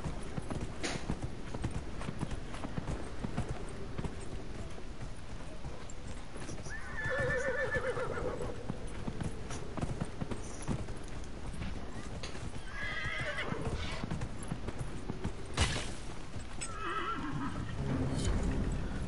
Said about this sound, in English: Let me get off my horse